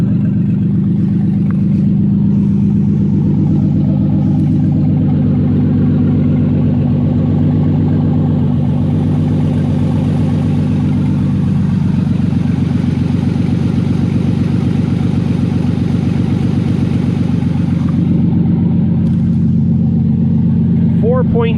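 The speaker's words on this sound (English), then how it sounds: "I'm gonna get out to listen to the motor" A 2003 Ford E250 cargo van with a 6-cylinder engine runs steadily at idle nearby, a constant low rumble lasting throughout with no revving.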